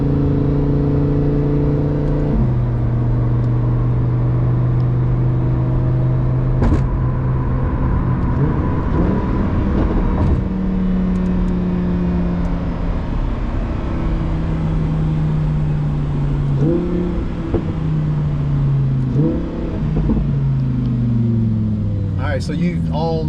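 A 2018 Lamborghini Huracan Performante engine drones loudly from inside the cabin while driving, its pitch climbing through gears with sharp drops at each shift. Steady road noise sits underneath.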